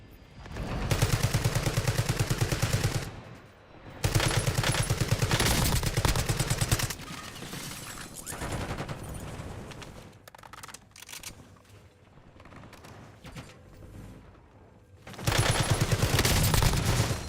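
Video game gunfire, with long loud bursts of rapid automatic shots in several sustained volleys separated by brief quieter gaps, up close and dominating throughout.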